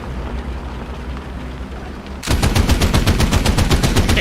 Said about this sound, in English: That spinning machine gun still makes me laugh.